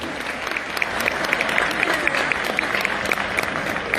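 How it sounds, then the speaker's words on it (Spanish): An audience at a school folklore day celebration gives the jury a round of applause, dense steady clapping from a crowd throughout, with a voice speaking over it. "Les aplaudimos a ellos."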